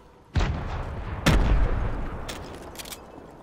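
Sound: gunfire in the video game Fortnite

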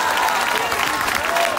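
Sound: political rally crowd applauding

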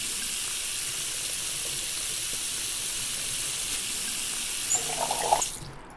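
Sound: water pouring into a pot in the video game Cooking Simulator

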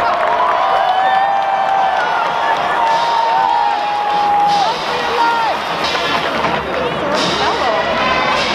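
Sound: UCLA crowd cheering at a football game

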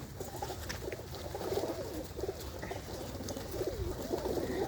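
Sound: pigeons cooing in a loft

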